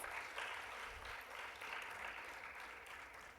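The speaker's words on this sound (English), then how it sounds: "Can we have a round of applause for her, please?" Audience applause for a panelist at a women-in-tech conference panel, steady sustained clapping from a crowd at moderate distance, continuing evenly for a few seconds with no talk over it.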